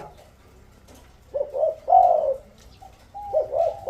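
A bird sings a few short, bright warbling phrases with pauses between them, over a faint low background hum.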